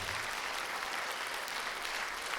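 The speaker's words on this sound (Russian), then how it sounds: "Паша, эти аплодисменты тебе от благодарных зрительниц." Audience applause at a concert in the Mordovian Philharmonic hall, a steady, dense wash of clapping from the crowd, even in level throughout and unbroken by voices.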